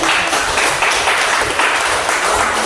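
Applause from students in a classroom, a dense steady patter of many hands clapping at once that holds at an even level for a few seconds.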